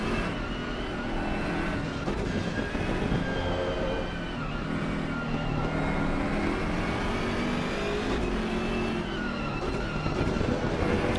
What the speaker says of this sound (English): the V12, of course, has always had its problems, but God, does it sound nice